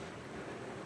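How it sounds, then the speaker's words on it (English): Boulder Creek rushing through a mountain valley near its headwaters outside Denver, a steady broadband wash of flowing water, fairly close and constant, with no voices. "main sound you're hearing is really the creek."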